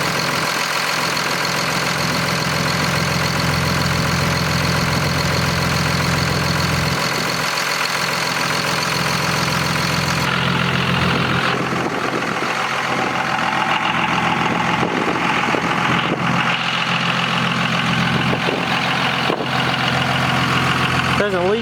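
A truck engine idles steadily with a deep, continuous rumble, close and loud throughout, its tone shifting slightly partway through.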